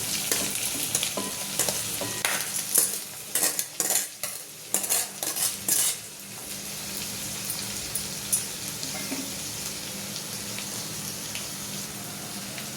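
Rice tipped into a pan of sizzling vegetables for paneer pulao, with a burst of spoon-against-pan scraping and stirring clatter, then a steady soft frying hiss continuing on its own.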